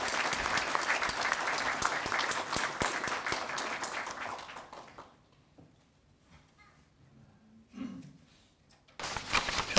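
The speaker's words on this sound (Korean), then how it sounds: "큰 박수로 청해 주시기 바랍니다" An audience at a professor's retirement ceremony applauds loudly for about five seconds, then the clapping fades to near silence with small rustles before a sudden burst of sound at the end.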